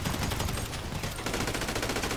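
Gunfire in the video game GTA 5: dense, continuous, noisy crackle of rapid shots with no clear gaps, loud throughout the short span.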